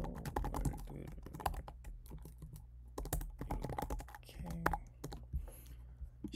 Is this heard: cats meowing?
no